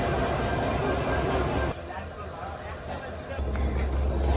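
A train at Panchagarh station rumbles and squeals on its wheels nearby, the loud, dense rolling noise dipping briefly midway and then swelling again, with voices in the background.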